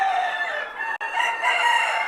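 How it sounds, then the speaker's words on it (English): A Hoffman rooster at Whiting Farm crows once in a strained, drawn-out call, close and loud. A short break cuts in near the middle, and the crow then carries on alone with no talk. "So that's what the Hoffman rooster looks like"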